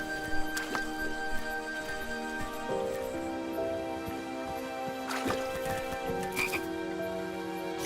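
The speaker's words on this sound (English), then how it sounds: "I was too slow to catch those frogs." Frogs in the King's Quest video game croak steadily in a dense chorus, overlapping ribbits layered over a soft ambient drone, with a few louder calls standing out near the end.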